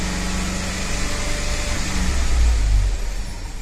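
A 2012 Ford F-150 with the 5.0L V8, suffering random misfires and a restricted catalytic converter, runs at a steady 2500 RPM, its engine droning loudly and evenly up close with a slight swell partway through.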